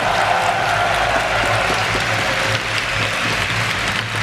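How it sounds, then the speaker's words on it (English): Crowd applause at a DreamHack EU LCS Summer 2013 esports event, dense, loud, sustained clapping from a large audience filling the hall without a break. "let's give a round of applause for the"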